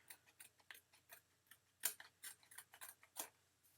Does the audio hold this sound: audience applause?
no